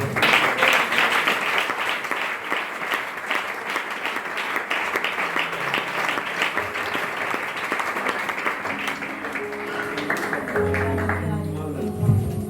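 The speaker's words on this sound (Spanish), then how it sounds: "Le damos un aplauso al Señor" A church congregation gives a long round of applause for the Lord, dense clapping filling the room with voices rising beneath it before it thins and fades into talk near the end.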